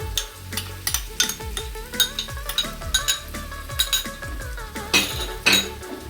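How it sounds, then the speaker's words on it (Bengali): A spoon stirs sour curd (yogurt) in a cooking pot, giving repeated scrapes and light metallic clinks at an irregular rhythm, close by over a steady musical backing. "টক দইটা দিয়ে এবার একটু আমি ভালোভাবে নাড়াচাড়া করব"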